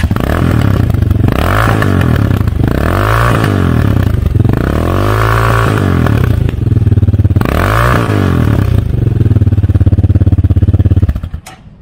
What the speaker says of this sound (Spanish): El escape se escucha bien. Muy bien para mi gusto. Vamos a oírlo.